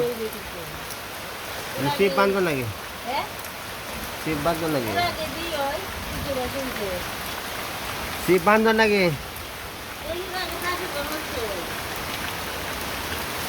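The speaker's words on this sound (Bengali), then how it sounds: "চতুর্দিকে দেখুন বৃষ্টি নামছে" Rain falling steadily across a village, a constant soft hiss in the background while people talk back and forth over it.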